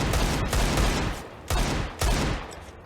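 Gunfire in a competitive shooter video game during a professional esports match: four loud bursts of rapid shots, each sharp onset fading out, evenly spread, with no talk over them.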